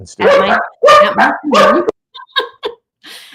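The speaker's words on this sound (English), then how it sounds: "these dogs are driving me nuts" Dogs bark close and loud, with several long harmonic barks followed by a few shorter, sharper yips and a fainter final call, heard indoors during a live talk show.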